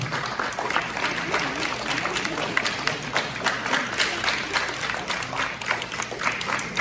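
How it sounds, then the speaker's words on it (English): An audience applauding at a Pongal festival celebration after a Thiruvalluvar statue unveiling, with steady clapping at a moderate level and some voices mixed in beneath it. "Can we have a round of applause, please?"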